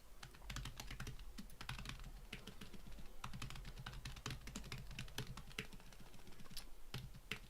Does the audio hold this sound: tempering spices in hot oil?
no